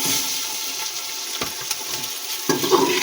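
Meat and onions fry in a pot for chicken biryani, giving a steady close sizzle with bursts of stirring and a louder crackle near the end, and no voices.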